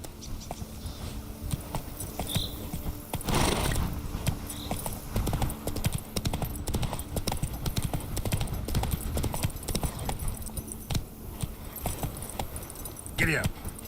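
A horse gallops in the video game Witcher 3, in the Toussaint region, with fast, steady hoofbeats running continuously at close range and a voice speaking over them at times.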